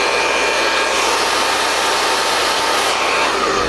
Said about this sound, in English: Go ahead and just hit it with your blow dryer just to get a little bit tacky and sticky.